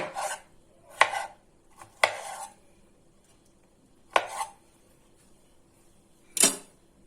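A knife chops tomatoes into cubes on a cutting board in a handful of separate crisp thuds, close and clear, with quiet pauses between cuts.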